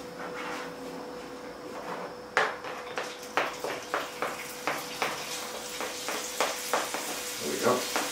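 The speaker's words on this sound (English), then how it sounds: "to fry this off in a bit of olive oil" Chicken frying in a little olive oil in a warm pan, a steady low sizzle with a run of sharp clacks and scrapes from stirring and utensils against the pan, close and moderately loud.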